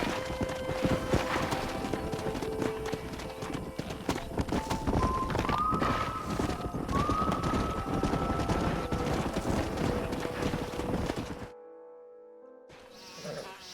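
A stallion gallops in Red Dead Redemption 2, its hoofbeats a steady, close clip-clop that runs for about eleven seconds before cutting out into near silence, with a brief burst of game sound returning at the end.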